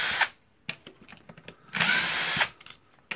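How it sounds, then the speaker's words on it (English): A cordless power drill/driver removes the gear-housing screws of a Makita BDF454 18V LXT drill. Two loud whirring bursts, one short and one longer, are separated by quiet clicks and handling noises. "just unscrewing the four screws holding the gear assy and the housing together"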